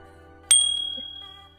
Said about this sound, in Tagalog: pindutin ang notification bell